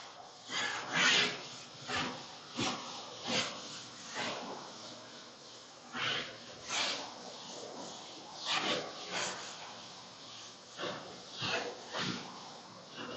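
Repeated rubbing strokes of a duster or cloth wiping writing off a classroom board, about a dozen rhythmic swipes close by with short pauses between them, no talking.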